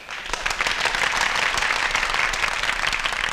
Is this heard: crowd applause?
yes